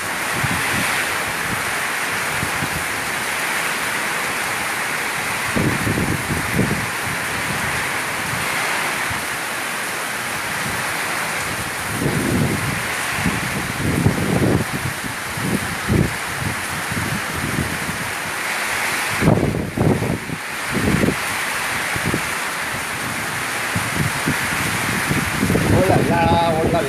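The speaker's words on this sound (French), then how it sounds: "Ça va faire du bien la pluie." A heavy rain storm in Isan, Thailand, sounds as a constant dense roar of rain with gusting wind, while voices talk intermittently over the steady downpour.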